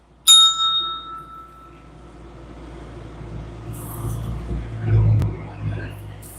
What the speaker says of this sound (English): Oh, you're going to make me ring that bell again.